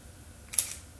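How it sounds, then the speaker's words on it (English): A Leica M10 camera shutter fires once, a single quiet, crisp click in an otherwise still room. "The sound on the shutter isn't really intrusive."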